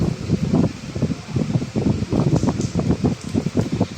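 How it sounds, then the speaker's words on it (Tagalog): Strong wind gusting through large trees in an outdoor city park, a steady broad rush that swells and dips in repeated gusts throughout, fairly loud and close with no talking. "Mahangin na."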